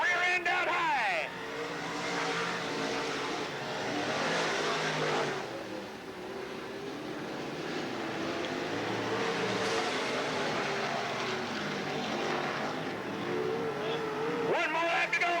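Dirt track race cars roar around the Cottage Grove Speedway oval in 1993, engines droning loud and steady with rising and fading passes, under a track announcer's running commentary.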